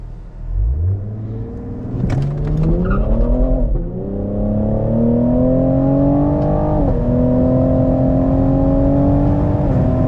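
A Cadillac CT5-V launches hard at night, its engine revving up through rising pitch with a brief tire chirp, a quick shift dip, then a sustained loud pull climbing again.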